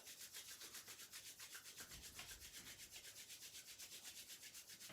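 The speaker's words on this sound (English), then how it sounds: "Bring the hands together and give them a really nice brisk rub" Hands rub together briskly in a quiet room, a fast, even back-and-forth swishing friction that repeats steadily throughout, close and alone without speech.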